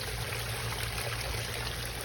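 Well water flows into a backyard koi pond waterfall, a steady, even trickling and splashing stream heard close up and alone, with no voices.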